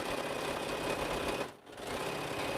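A sewing machine stitches quilt rows together, running with a steady fast whirring hum that dips briefly mid-clip before resuming.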